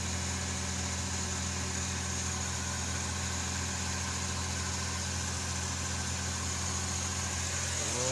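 A car engine idles steadily after being started, a low, even rumble with slight vibration, fairly faint and unbroken, with no talk.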